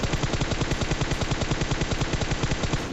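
Sustained automatic gunfire in PUBG hammers out as a rapid, evenly spaced burst of loud shots that runs without pause for several seconds.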